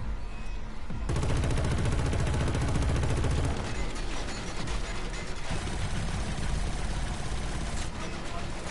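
Rapid automatic gunfire from Killzone: Shadow Fall rattles continuously in dense bursts, loud and close, with mechanical clatter and a heavy low rumble under the shots.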